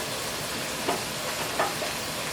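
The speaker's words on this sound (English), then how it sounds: "Okay, those potatoes are done, so we're gonna scrape them into the bowl." Cooked potatoes scraped from a hot pan into a bowl, a continuous sizzling hiss with a few faint scraping strokes, no talk.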